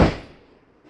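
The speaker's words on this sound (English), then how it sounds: "Now as we open the door" Exterior door of a 2023 Jayco Seismic 4113 RV, a single sharp thump as it opens, close by, then quickly decaying to quiet.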